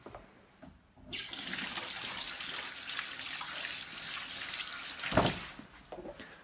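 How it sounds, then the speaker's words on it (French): A tap turned on to rinse hands, its water gushing steadily and close for a few seconds with splashing, followed by a thump as it is shut off. "ouvrir le jet d'eau, vite, vous rincez les mains et leur fermer, en essayant d'utiliser le moins d'eau possible."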